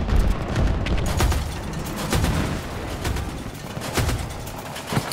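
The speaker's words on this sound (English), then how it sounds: "I have the big cannon." A big cannon weapon fires in the video game Battlefield 2042, rolling booms and dense blasts in a loud, continuous barrage of gunfire with repeated heavy impacts and no clear pauses.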